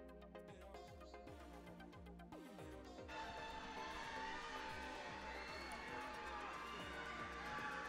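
A crowd cheers and claps loudly in a large space at a junior roller derby tournament, the roar swelling halfway through and staying strong over a rhythmic background beat.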